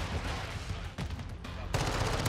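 Automatic pistol fire in Call of Duty: Modern Warfare II from an X13 Auto, rapid dense bursts of gunshots in quick succession, loud and close, with a brief gap before another burst.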